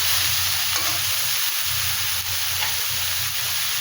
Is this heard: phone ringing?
no